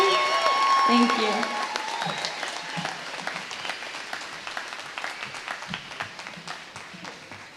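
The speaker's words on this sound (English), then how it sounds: "Give her another round of applause" An audience at a Taos Academy event claps after a singer's anthem performance, the applause starting loud and slowly thinning over several seconds, with a voice briefly over it.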